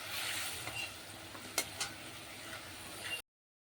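Egg curry is being sautéed in a pan, a soft steady sizzle with a couple of scraping stirs before it cuts off to silence near the end; no talking.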